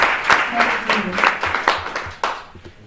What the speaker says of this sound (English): they deserve a round of applause again